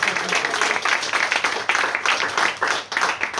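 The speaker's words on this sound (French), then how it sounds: "si on est dans les applaudissements" Audience applause at a literary conference on women's crime fiction, a dense, steady patter of many hands clapping from the room, continuous throughout with slight swells and no talk over it.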